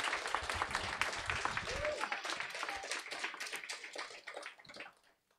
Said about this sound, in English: a great applause for Bodil